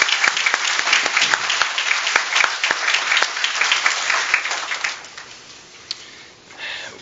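Audience applause at an economic educator awards ceremony in Virginia, a steady dense clapping that carries loudly for about five seconds, then thins and fades with a brief late swell.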